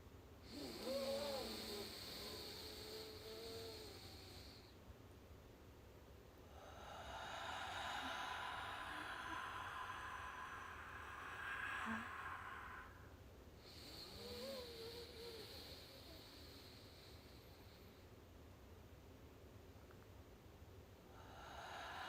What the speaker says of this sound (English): Hopefully you can hear me when I'm breathing.